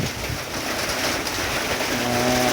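Steady rain falls on a wet morning, a dense, even hiss of drops hitting surfaces that continues unbroken with no voices.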